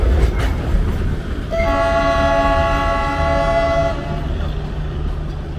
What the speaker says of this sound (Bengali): পথে পেলাম NJP থেকে 10টায় ছাড়া ট্রেনটি।